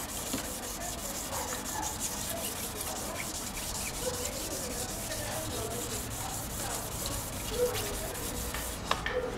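Sandpaper rubs steadily over a car headlight, a continuous close scratchy rasping with even back-and-forth strokes and no talking.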